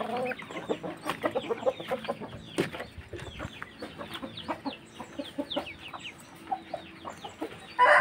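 Chickens cluck and chatter steadily around a farmyard in Cianjur, West Java, Indonesia, with many short overlapping calls from several birds and a louder burst at the very end.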